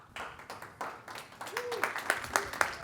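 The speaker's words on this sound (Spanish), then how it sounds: "Un fuerte aplauso" An audience at a talk on turning glasses into smart assistants claps, the applause building from scattered claps into denser clapping, with a voice speaking over it.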